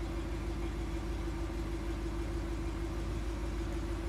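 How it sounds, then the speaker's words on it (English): Steady low mechanical hum with a constant drone as the air suspension of a 2022 Range Rover lowers the vehicle, close and even throughout. "you actually hold the button and the whole vehicle will start to go down."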